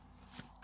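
Tarot cards being shuffled, a quick soft riffle of paper flicks, faint and close, in a brief burst with no talking.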